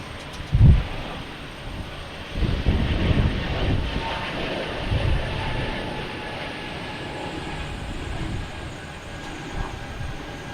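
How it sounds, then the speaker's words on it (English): A JetBlue airliner takes off at Boston Logan Airport, its engines a broad, sustained roar heard from a distance, with a low thump near the start and no talk over it. "JetBlue taking off."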